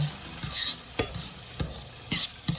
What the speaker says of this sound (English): So guys, I am going to allow this to fry.